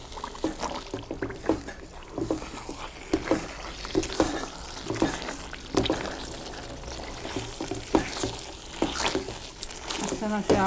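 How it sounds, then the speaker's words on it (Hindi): Egg halwa stirred and roasted in a pan, a spoon scraping and turning it in close, irregular strokes over a soft steady sizzle, with no talk. "इस तरह से आपने इसको साथ साथ पलटना भी है, ताकि सारा हलवा अच्छी तरह से भून जाए।"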